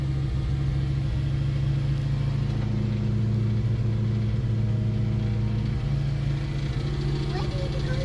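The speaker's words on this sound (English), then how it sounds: "it's idling high, just because it's cold" A Jeep YJ rock crawler engine idles high in the cold at a raised, even pitch with a low rumble throughout, close by, with no clear talk over it.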